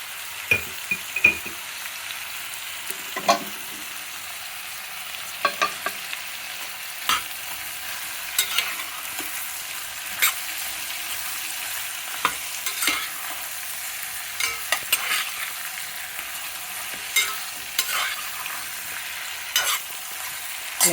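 Mutton nalli fries with turmeric and salt in a pan, giving a continuous low sizzle. Frequent sharp scrapes and knocks of a spoon stirring the meat break through it at uneven intervals.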